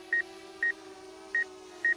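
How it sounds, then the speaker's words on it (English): Four short, evenly pitched electronic proximity-warning beeps from a DJI Mavic Air drone at regular intervals over a low, steady motor hum, fairly soft. "that beeping that you hear is because it's automatically censoring I'm close to it"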